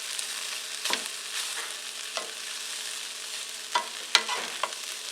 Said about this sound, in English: the apple ready after I get this stirred around